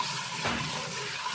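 Water pours from a cup into a pan of sugar to make syrup for semolina burfi, a short splashing gush that swells briefly and then fades into a soft hiss.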